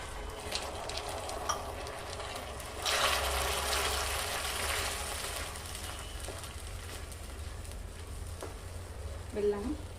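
Grated jaggery melting in a pan as water is poured in, giving a steady low sizzle and bubbling with brief louder pours and stirring, close up.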